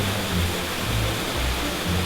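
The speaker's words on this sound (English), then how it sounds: "We had a mooch around the waterfall." Steady broadband rush of a waterfall in a sheltered spot, a continuous near roar with no pauses, alone without voices.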